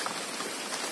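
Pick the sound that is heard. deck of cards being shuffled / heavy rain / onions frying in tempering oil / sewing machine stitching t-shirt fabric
heavy rain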